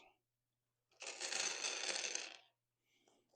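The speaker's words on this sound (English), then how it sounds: "Let's just grab a big pile of dice." A big handful of tabletop gaming dice is scooped up and rattled, giving a dense, continuous clatter of plastic for about a second and a half, close and loud, with brief quiet before and after.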